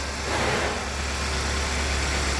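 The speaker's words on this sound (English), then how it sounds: "with the motor running," A 2011 Hyundai Sonata engine idles steadily with a smooth, even low hum and a broad airy wash of noise, close and continuous, with no talking.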